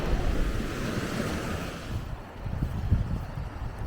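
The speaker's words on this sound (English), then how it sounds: "it's getting quite loud here because we are next to the pounding surf" Loud, continuous surf pounds the rocky shore near Berry Head lighthouse among tall cliffs, a close, dense roar of breaking waves mixed with wind buffeting the microphone.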